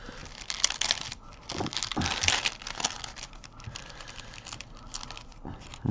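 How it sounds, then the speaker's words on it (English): Glassine stamp envelopes handled with tweezers, with repeated close crinkling and crackling in uneven bursts and short pauses, no talk. "Glassine envelopes."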